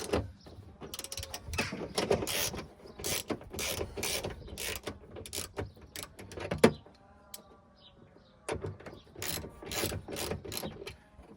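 Rear power window on a WJ Jeep Grand Cherokee grinding in a stiff, binding track: close, uneven mechanical whirring with ratchety clicks and knocks, pausing briefly midway and then resuming.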